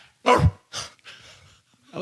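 A person imitates a dog barking, giving two or three breathy, throaty barks with short pauses between them, loud and close.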